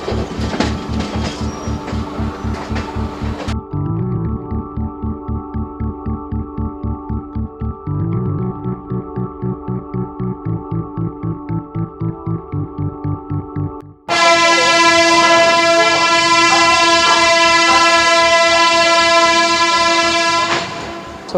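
Long, loud blast of the GT Express train horn at Nizamuddin station, following a rhythmic, throbbing diesel engine beat and heavy rumble, with the horn sustaining strongly for several seconds near the listener.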